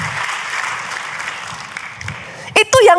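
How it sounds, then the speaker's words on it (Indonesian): Sustained congregation applause fills a church service, steady and fairly loud throughout, before a voice breaks in over the fading clapping near the end. "tepuk tangannya yang paling meriah buat Yesus Tuhan kita"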